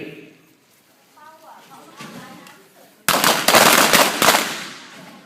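Handguns firing during a defensive shooting drill on a range, a loud burst of several close, rapid sharp shots that follows a man's spoken command.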